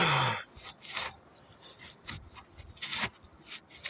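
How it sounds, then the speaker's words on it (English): A rag wipes up spilled brake fluid around the rear brake cylinder of a Vauxhall Combo or Corsa C drum brake, giving a series of short, close rubbing and scuffing strokes in an uneven rhythm, with no voices. "we'll get a rag and we'll clean up all the fluid"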